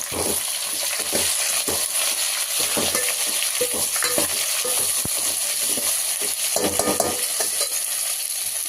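Ground masala being stirred into a cauliflower curry in a hot pan, with a steady sizzle and frying hiss under repeated scraping, clinking stirs throughout, close and fairly loud, no voices.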